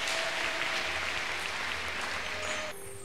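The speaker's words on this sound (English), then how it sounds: "Clap for Jesus." A church congregation at a bishop's sermon applauds in a dense, continuous wash of clapping over a sustained keyboard tone. The applause cuts off abruptly near the end, leaving the tone ringing alone.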